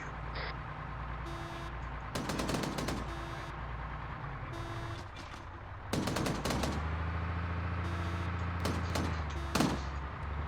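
Machine-gun fire from a BTR armored vehicle during a field training exercise, bursts of rapid shots cutting through steady engine rumble and intermittent reversing beeps, fairly close and loud.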